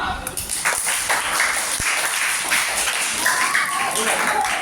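Children in a primary school classroom clap together after a math lesson answer, a short burst of scattered applause mixed with young voices talking.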